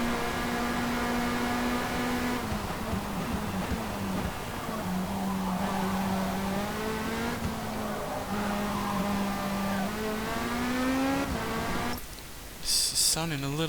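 A Lamborghini LMDh race car engine in Forza Motorsport drones steadily, pitch rising and falling as it revs and shifts, with a brief burst of other noise near the end.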